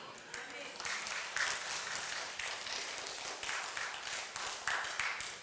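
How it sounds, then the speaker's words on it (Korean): A church congregation applauds during a Sunday worship service. The clapping forms a steady, dense wash that stays fairly faint and distant, with slight swells throughout. "박수 좀 쳐."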